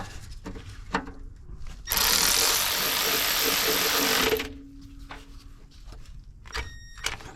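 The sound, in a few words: power ratchet removing starter bolts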